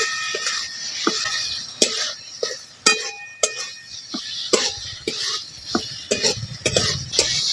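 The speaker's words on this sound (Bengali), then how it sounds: "এই কচুগুলো মশলার মধ্যে দিয়ে এক থেকে দু মিনিটের মতো এটাকে ভালো করে মিশিয়ে নিয়েছি" A spoon scrapes and clinks in a pan as fried taro is stirred into cooking spice paste for a Bengali fish-head curry, with repeated sharp knocks over a steady background hiss.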